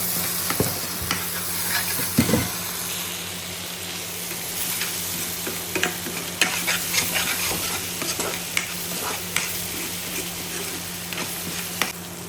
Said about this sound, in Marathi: पहिले मस्त तेल सुटोस्तवर असं याला मिश्रण करत राहायचा मिक्स करत राहायचा